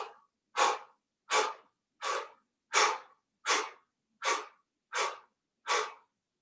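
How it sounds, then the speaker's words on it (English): Nine forceful exhales through the mouth, as in a yoga breathing exercise, come at an even rhythm about every three-quarters of a second, close and clear with silence between them. "a powerful exhale is blowing out this candle. So you would exhale,"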